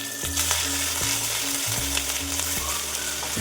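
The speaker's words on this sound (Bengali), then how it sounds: "মশলাটা আমি একটু ভাজা ভাজা করে নেব।" Ground cumin, garlic, onion and chili pastes sizzling in hot oil for a sarpunti fish curry with sesame, a steady close frying hiss with occasional stirring scrapes, no voices.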